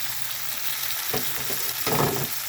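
Sautéing for a mung bean and smoked fish dish gives a close, continuous hiss of frying in a pan, with a couple of brief stirring scrapes.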